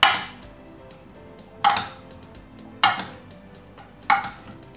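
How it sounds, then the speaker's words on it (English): Spoon clatters in a bowl while fresh mixed salad is tossed, four distinct clinking scrapes spaced about a second apart, close and fairly quiet with no talk. "So we can mix it with the spoon, we can mix it with your hands."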